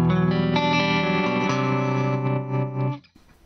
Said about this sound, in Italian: Ovviamente sentite che c'è il compressore.